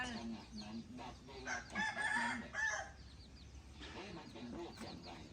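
Farmyard chickens cluck and a rooster crows midway, a strained cock-a-doodle call rising over scattered clucking, with faint background voices at moderate distance.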